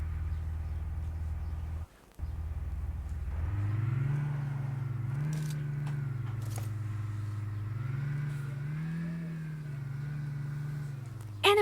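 A car driving in a video game, its steady engine drone rising and falling through a few gentle revs, heard at moderate distance without talk, with a short break near the start.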